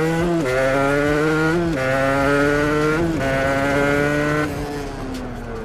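Sherco 125 motorbike engine running, a loud buzzing two-stroke-style drone revved in several rising steps with brief drops between, easing off to a lower idle at the end.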